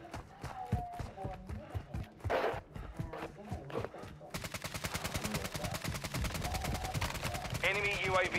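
Gunfire in a first-person shooter video game crackles in rapid, repeated bursts, close and loud, turning into sustained automatic fire toward the end.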